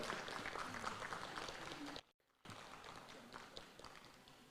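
Audience applause at a State House welcoming event for a marathon champion, a quiet, steady patter of clapping from a crowd that drops out briefly midway and then resumes.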